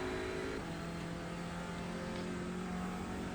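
Audi TCR race car engine at full throttle in iRacing at the Nürburgring, a steady loud droning roar with a brief shift in pitch early on, continuous and close with no talk.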